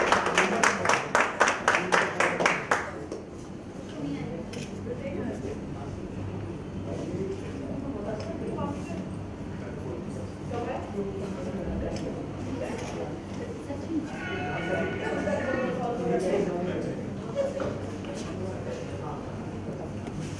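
A crowd applauds to honour a guest at a literary stage event, a short burst of loud, rhythmic clapping that dies away within a few seconds, followed by murmuring and talk in the hall.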